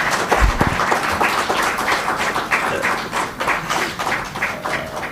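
An audience at an industry-academia launch event by a chamber of commerce claps for the anchor, a dense, loud spread of many hands with a few sharper close claps near the start, continuing steadily throughout.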